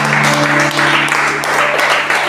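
A church congregation claps steadily in a dense, continuous burst of applause, with faint sustained tones underneath.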